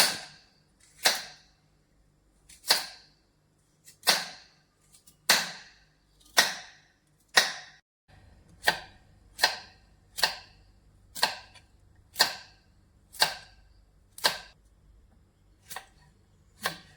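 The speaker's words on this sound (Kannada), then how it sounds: "ಕುಂಬಳಕಾಯಿನ ಸಣ್ಣ ಸಣ್ಣ ಪೀಸಾಗಿ ಕಟ್ ಮಾಡ್ಕೋಬೇಕು" A knife chops through pumpkin in sharp, crisp strikes, about one a second, each cut ringing briefly before the next, with no talking.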